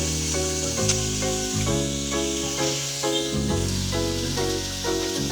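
Slices of milkfish (bangus) sizzle in a heated pan, a steady frying hiss running under prominent background music throughout.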